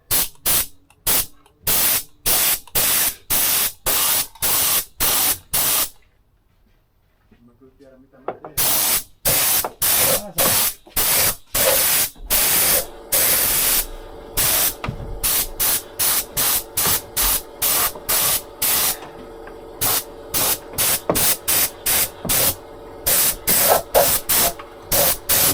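Repeated bursts of a paint spray gun hissing in quick regular pulses while painting a Scania 143H V8 truck, then a pause of several seconds before the spraying resumes in a steady series of short blasts.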